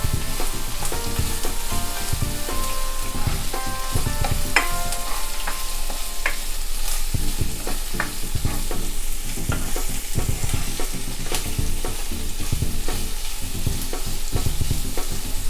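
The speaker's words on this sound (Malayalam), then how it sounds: "പിന്നെ പച്ചമുളക് ഈ എണ്ണയിൽ കിടന്ന് നിന്ന് ഫ്രൈ ആകുമ്പോൾ" Green chillies fry in hot oil in a home kitchen for a sweet raisin pickle, giving a steady, loud sizzle with spatula scrapes and stirring clatters throughout, no voices.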